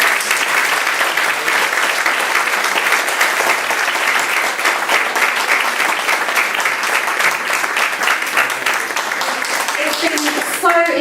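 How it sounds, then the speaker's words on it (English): Sustained applause from an audience for volunteer speakers after a panel discussion on nikkah registration, dense and loud clapping that carries on steadily before easing at the end as a voice begins. "if we could have a round of applause for the speakers who volunteered."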